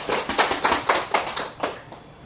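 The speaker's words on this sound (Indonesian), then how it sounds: "Please give applause." A small class claps in a steady rhythmic beat, a handful of crisp, close claps in quick succession that fade out toward the end, with no talking.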